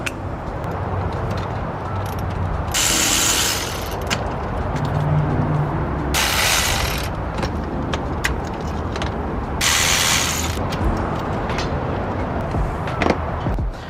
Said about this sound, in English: next up, we're going to be using a 5/8 spark plug socket